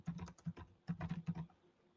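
Fingers tap quickly on a computer keyboard in two short bursts of clicky keystrokes separated by a brief pause, close and fairly quiet, with no talk.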